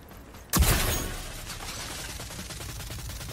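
Gunfire in the online shooter Rogue Company, a loud sudden burst of shots that trails into a sustained rattling barrage of battle noise.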